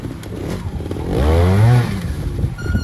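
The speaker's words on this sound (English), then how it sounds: "Rev it!" A trials motorcycle engine revs up close, rising into a loud rasping climb and then dropping back to a rough, burbling idle.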